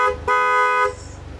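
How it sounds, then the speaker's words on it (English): Car horn of a 1990s Jaguar XJ220 supercar, two close, loud, steady blasts, a short one followed by a longer one of almost a second, then quiet. "So what does the horn sound like in a Jaguar XJ220?"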